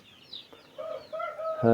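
Chicks and chickens being readied for transport peep and chirp in a short run of thin calls, ending in one loud, sharp cluck or squawk close to the microphone.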